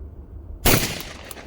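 Beretta A300 shotgun fired outdoors: after a moment of quiet, a single loud sharp blast bursts out and then rings away into a fading echo.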